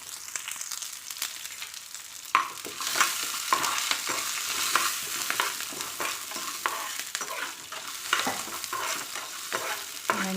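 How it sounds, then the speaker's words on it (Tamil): Onions, garlic cloves and shallots sauté in a pan with a constant close sizzle, broken by repeated scraping stirs and clacks of a spoon against the pan. "வெங்காயம் நல்லா வதங்கட்டும்."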